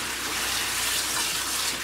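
Steady broadband rush of water flowing through a large shrimp-only aquarium, a continuous diffuse wash with no breaks or voices, moderately loud and close.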